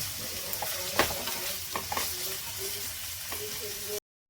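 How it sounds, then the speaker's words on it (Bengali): Chopped ginger, garlic and green chillies sizzle steadily in a pan while being stirred, with a few sharp spatula clinks early on, then the sound cuts out abruptly. "এটা এবার ভালো করে ভেজে নেব।"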